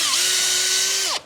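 A power drill drives a screw into wood for a homemade mud kitchen: one steady, loud whirring run of about a second with a rising pitch at the start, then it stops abruptly as the screw seats.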